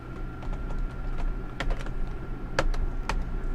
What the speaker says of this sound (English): See, and the keyboard snaps beautifully in this top piece.